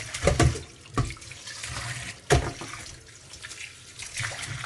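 Tap water runs and splashes as something is rinsed in a kitchen sink, fairly quiet with a few louder splashes and a low steady trickle in between.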